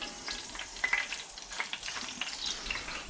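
An Australian salmon fishcake fries in a pan, giving a steady close sizzle with small crackles and pops scattered throughout and no voices.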